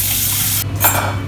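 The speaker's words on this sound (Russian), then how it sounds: "Вот яйца сварились, мы их сразу же под холодную воду," Cold tap water runs steadily over freshly boiled eggs in a kitchen sink, loud and close, with a brief break in the flow before it gushes again.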